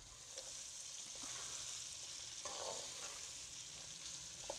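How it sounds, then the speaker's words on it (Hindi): Carrots fry in a pan with a steady, faint sizzle that holds evenly, with a few soft stirring scrapes breaking through now and then. "इसको अच्छी तरह भून लेंगे, इसमें 5 मिनट तक फ्राई करेंगे"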